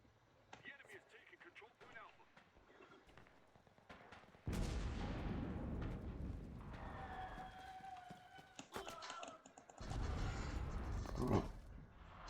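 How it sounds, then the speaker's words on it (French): Gunfire during a Moscow campaign battle in the WWII shooter game Enlisted: scattered cracks and heavy booming bursts rise sharply and roll on, fairly faint overall, with a voice talking over them. "Alors ça tire de partout"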